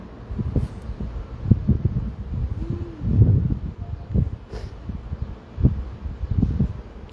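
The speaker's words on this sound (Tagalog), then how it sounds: "Kasi mahangin dito." Gusty wind buffets the microphone in uneven low thumps and rumbles, close and fairly loud, with faint rustling between gusts.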